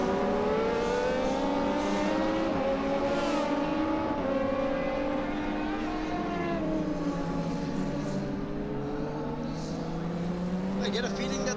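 Race cars in a JK Tyre circuit race drive a long straight into turn 5, several engines droning and shifting pitch over continuous motorsport commentary.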